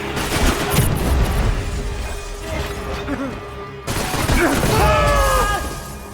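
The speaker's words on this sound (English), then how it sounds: "which brings Max to a shootout in the crime scene analysis station" Gunfire crackles through a Max Payne 3 shootout in a cramped crime scene analysis station office, dense bursts and impacts filling most of the stretch with a brief gap near the middle before the firing resumes, loud and close.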